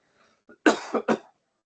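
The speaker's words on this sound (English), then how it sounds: "Excuse me, I'm about to cough." A single person coughs a few times in quick succession, close to the microphone, preceded by a faint throat noise, then silence.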